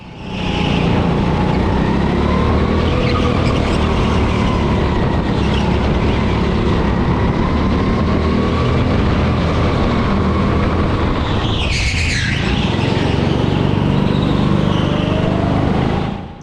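Go-karts race on an indoor track, engines droning steadily and loud throughout with a brief sharp burst near the end, no talk.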